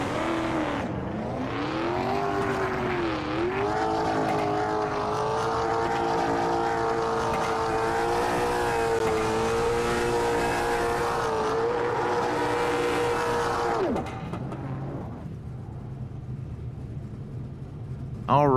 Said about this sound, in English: Ben Ryan decides he wants to do a little burn out here right underneath the flag stand.